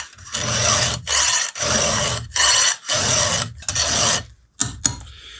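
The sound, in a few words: sharpening chainsaw chain with a file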